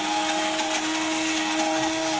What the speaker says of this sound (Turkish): Şimdi blenderla geçiyorum.